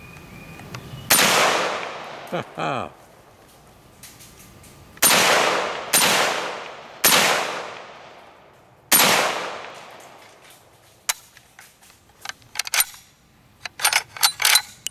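An Auto Ordnance M1 Carbine firing at a soda can outdoors: five sharp, loud shots spaced a second or two apart, each with a ringing echoing tail, then a clatter of small metallic clinks and handling sounds.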